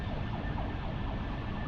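An ambulance siren wails steadily and fairly loudly, a continuous rising-and-falling tone over low road rumble, with no talk over it.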